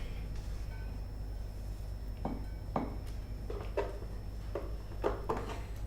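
A spoon knocks against a bowl while almonds and butter are mixed, giving about half a dozen faint clinks and scrapes spread through a quiet, steady background.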